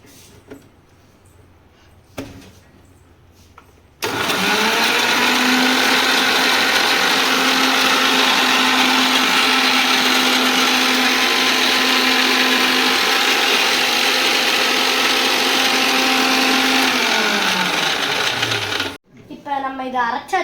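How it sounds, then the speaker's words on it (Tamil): A kitchen mixer grinder jar whirs as it purees mango with sugar for homemade ice cream. The loud, steady motor whine starts abruptly, runs for about fifteen seconds and then cuts off, with brief sounds before and after. "இப்போ நம்ம போய் மிக்ஸி ஜாரில் அரைக்கிறது மட்டும்தான் வேலை"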